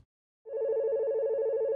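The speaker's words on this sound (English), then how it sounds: "I hear a phone ring." An old-school telephone rings with a steady, sustained bell-like tone. It starts after a brief silence, then holds loud and near, with no talking.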